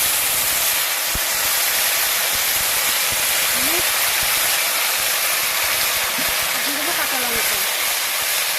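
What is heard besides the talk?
spices sizzling in hot oil for taro leaves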